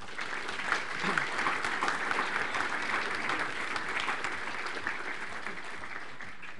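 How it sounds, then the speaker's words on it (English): Moderate clapping from an audience at a developers' show-and-tell event, a continuous, even wash of many hands at medium loudness, sustained steadily with no voices over it. "So could we hear a moderate clapping,"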